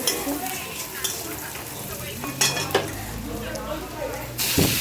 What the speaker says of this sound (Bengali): পেঁয়াজটা কি সুন্দর লাল লাল ভাজে হয়ে